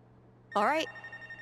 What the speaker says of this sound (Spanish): y está sonando el teléfono